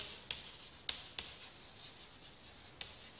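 Pen strokes scratch quietly across a writing surface while prime factors are noted down, with soft continuous rubbing broken by a few sharp little ticks as marks begin, close and faint.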